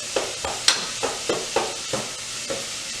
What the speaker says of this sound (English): We're going to cook these onions till they're translucent, or you can sort of start to see through them.